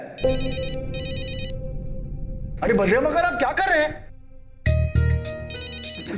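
An electronic phone ringtone chirps in repeated bursts, pauses while someone speaks, then rings again close by.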